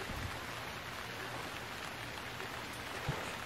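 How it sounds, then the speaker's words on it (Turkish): Heavy rain pours steadily in the Stranded Deep survival game, a dense, even hiss of falling water with no talk over it and a single brief thump near the end. "Umarım diner. Yani çok hızlı yağıyor."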